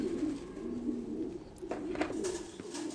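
Thai Titan meat pigeons cooing steadily in low, murmuring rounds, with a few brighter bird calls and chirps rising over the continuous cooing near the end.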